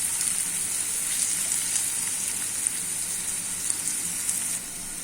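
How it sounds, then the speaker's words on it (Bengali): Leafy greens, gima and tetu shak cooked with potato, fry in a pan with a close, even sizzle and hiss that holds steady throughout, with no talking. "শাকটি প্রায় হয়ে আসছে, আর একটু ভাজা ভাজা হয়ে আসলে আমি নামিয়ে নিব।"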